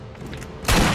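A glowing shotgun fires once in Borderlands' zombie island, a sudden loud close blast with a deep thump that bursts out after a low rumbling background and rings on to the end.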